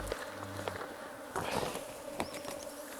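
Honeybees buzz steadily around a beehive during an inspection, a close continuous drone with brief louder passes and some handling noise.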